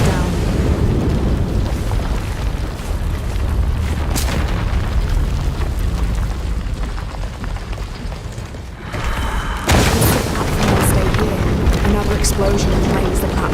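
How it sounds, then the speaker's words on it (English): An explosion sets a platform ablaze in Shadow of the Tomb Raider, a dense roaring rumble that surges sharply partway through with sudden bursts, loud and sustained over the game's ambience. "Explosion inflames the platform."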